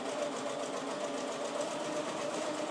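A sewing machine stitches curtain lining fabric with a steady, continuous motor whir and fast needle chatter, close and even throughout with no talking.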